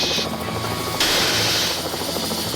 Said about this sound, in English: horsepower on, helicopter on, horsepower's on.